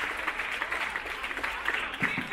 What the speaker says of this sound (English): Round of applause for Sonia.